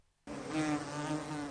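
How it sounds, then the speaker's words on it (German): A giant fly-like enemy in Silent Hill 2 buzzes suddenly to life, a close, loud, continuous droning hum with a wavering pitch that holds steady after its abrupt start. "Aber das hört sich wirklich an wie so eine mega große Super-Duper-Turbo-Fliege"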